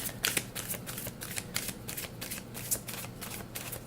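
Tarot cards being shuffled by hand, heard as quick papery riffles and soft flutters in a rapid, uneven rhythm. The sound is close but quiet.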